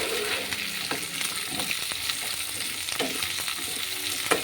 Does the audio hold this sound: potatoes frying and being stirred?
yes